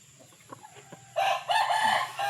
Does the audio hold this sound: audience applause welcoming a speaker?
no